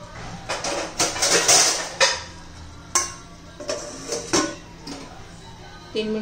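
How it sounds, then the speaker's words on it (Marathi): Metal pot clatter and a lid set onto a pan of bitter gourd curry, several sharp close knocks and scrapes in irregular bursts over a quiet background. "आणि आता झाकण ठेवूया एक 3 मिनिटं."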